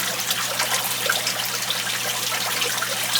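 Tap water runs steadily into a jug for an aquarium water change, a constant close hiss and trickle with no pauses and no voices.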